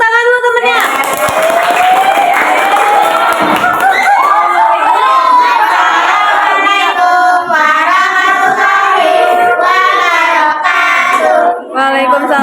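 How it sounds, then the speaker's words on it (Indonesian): Children clap for a classmate in a classroom, steady and close, while many young voices shout and chant loudly over the clapping throughout. "kasih tepuk tangan dulu temennya"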